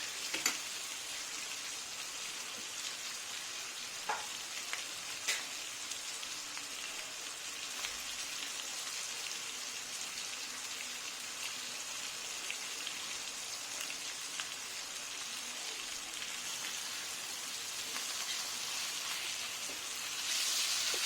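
Spicy lady fish fries in a pan with a constant, fine crackling sizzle that sounds almost like rain, faint and steady throughout, with a few small pops and no talking.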